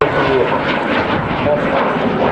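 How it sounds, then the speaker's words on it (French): Water bomber seaplane climbing after releasing its load at the Paris Air Show at Le Bourget, a loud, steady engine roar under continuous talking. "Et donc l'avion allégé remonte beaucoup plus facilement vers le ciel."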